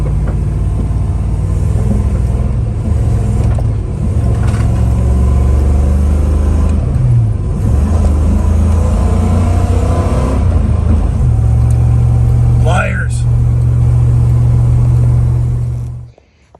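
A van with a repaired late-shifting transmission driving along, a loud steady engine and road rumble with pitch changes as gears shift, a brief whine near the end before it fades out.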